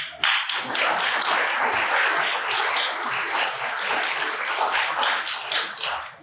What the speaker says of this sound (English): This slide deserves a round of applause